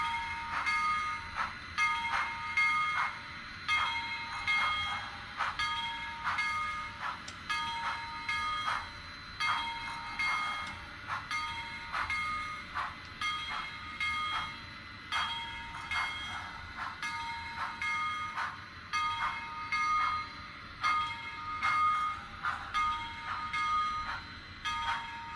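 A Bachmann 4-4-0 model steam locomotive runs unevenly along track, giving a steady stream of light clicking rail joints and metallic rattles in an irregular, lumpy rhythm, close and fairly quiet.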